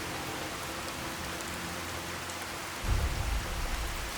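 Steady rain falls in the Fallout 4 game world, a soft continuous hiss of drops on surfaces with a low rumble swelling near the end, and no one speaking.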